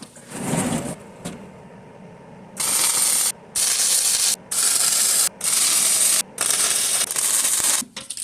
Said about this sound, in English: It's time to weld these up now.